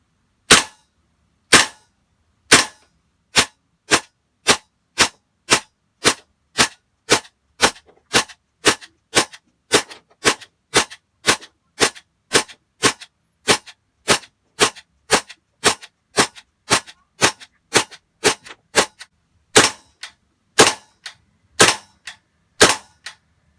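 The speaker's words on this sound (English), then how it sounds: "let's see if we can prove that with the GHK M4." Semi-automatic shots from a GHK M4 gas blowback airsoft rifle firing BBs, around thirty sharp cracks in a steady rhythm at close range, loud and alone, with a brief pause near the end before the last few shots.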